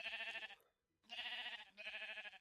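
Sheep bleating in the Minecraft video game: two or three drawn-out, wavering bleats separated by a short silence, close and clear with no talk over them.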